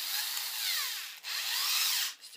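A worn drill bit grinding against a Gorilla Glass phone screen with a steady high whine that briefly cuts out twice, close and continuous.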